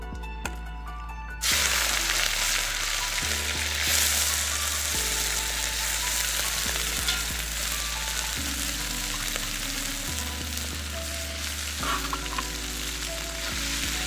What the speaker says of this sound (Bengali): এবার আমি শামুকগুলোকে ভেজে নেব।